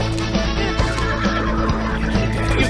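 A horse in Zelda: Tears of the Kingdom neighs and whinnies, loud and close, over a dense, busy layer of game sound that fills the whole stretch.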